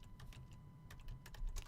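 Keystrokes patter on a computer keyboard in quick, uneven clusters, faint and close in a quiet room, with no voices.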